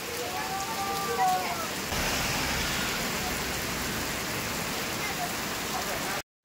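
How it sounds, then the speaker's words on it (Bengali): Heavy rain pours down in the hills, a dense, steady hiss of drops drumming on surfaces that runs unbroken for several seconds before cutting off abruptly. "বলতে না বলতেই বৃষ্টিও নেমে গেছে, ঝমঝম করে বৃষ্টি পড়ছে"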